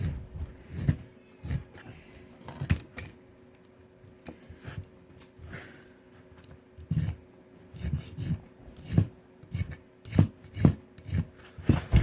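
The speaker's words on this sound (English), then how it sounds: "I'm going to switch over to my flat files and go around the perimeters of the arms, the cross arms themselves" Flat file rasping along the edges of soft aluminum motor mount cross arms clamped in a vise, with a steady series of short, close scraping strokes in an irregular rhythm, no talking.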